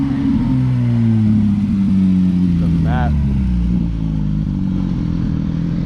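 A matte Porsche GT3 passing at a cars-and-coffee meet in Rocklin, California: a loud engine note that rises and then falls in pitch as it goes by, under a constant crowd murmur and nearby chatter.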